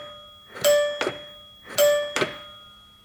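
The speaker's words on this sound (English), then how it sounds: "here's the stop request chime" Two identical electronic two-tone stop request chimes ring inside a bus, each a bright ding followed by a lower tone, spaced about a second apart against a quiet background.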